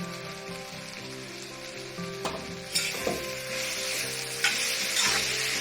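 Onions frying in a pan for bitter gourd (karela) bhujiya sizzle steadily, with a few scraping stirs of a spoon breaking through the hiss near the mic.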